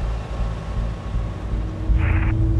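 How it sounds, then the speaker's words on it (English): A gyrocopter engine runs at idle just after starting, a steady close low rumble and drone without much change in pitch. "Oké, okay, engine started."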